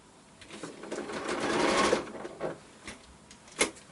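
A sewing machine stitches quilting fabric in short bursts of a few stitches at a time, pausing between runs as the presser foot is lifted and the fabric is turned along a curve; moderately loud and close, with no talking.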